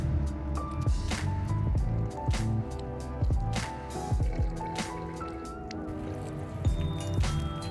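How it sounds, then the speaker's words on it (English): Outdoor potted plants are watered on a hot day. Water splashes and drips into soil and pots in irregular bursts, with gurgling, trickling sounds close by. "So I'm going to go ahead and water them while I'm out here."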